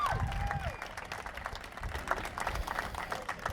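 Crowd applause and cheers at a Liqui Moly Pro Sport Bike motorcycle race for three riders, a dense, fairly distant wash of clapping that holds steady throughout.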